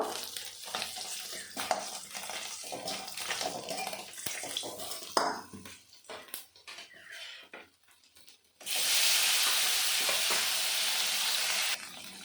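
Tilapia pieces frying in mustard oil in a pan, with clattering and stirring, then a steady loud sizzle for several seconds.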